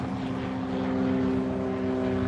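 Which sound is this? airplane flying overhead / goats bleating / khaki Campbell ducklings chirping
airplane flying overhead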